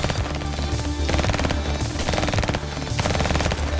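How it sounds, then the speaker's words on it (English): Rapid bursts of automatic gunfire in the Crossing Souls video game, dense and continuous over layered music and explosions, loud throughout with no pauses. "They literally ran through gunfire."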